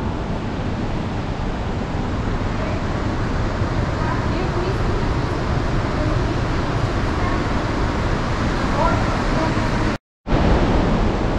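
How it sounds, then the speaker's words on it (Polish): Steady rushing water fills the scene, a constant broadband roar from a small waterfall nearby inside Devil's Throat Cave, Bulgaria, with a brief gap near the end. "Słychać wodospadzik."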